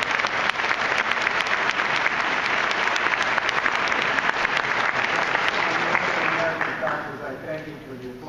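Large audience of doctors applauding steadily at a lecture hall talk, dense sustained clapping that fades slightly near the end.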